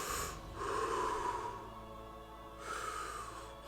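Heavy breaths drawn in and let out slowly by someone sitting in meditation, two long swelling exhalations close to the ear, separated by a quieter pause, with no talking.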